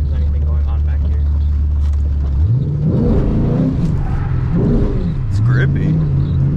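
A Ford Mustang GT drifting on a wet street in the rain: a loud low engine drone that rises into revving swells and wavering pitch sweeps, with someone talking over it.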